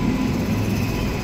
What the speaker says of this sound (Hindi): कुछ देर इंतजार करने के बाद हमारी ट्रेन आ जाती है